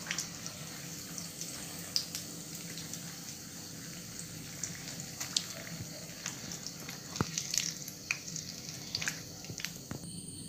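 Chammanthi-filled egg bhaji deep-frying in hot oil: a low, even bubbling sizzle with scattered crackles and pops throughout, moderately faint, no voices.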